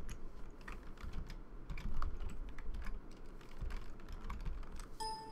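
Someone types on a computer keyboard in quick, steady bursts of soft clicking keystrokes, close and fairly quiet, with no talking.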